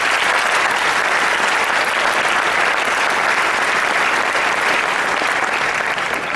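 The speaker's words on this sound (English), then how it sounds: "Give yourselves a round of applause" A crowd at a 2015 high school baccalaureate ceremony gives a long, loud, steady round of applause, dense and unbroken from start to finish with no voices standing out.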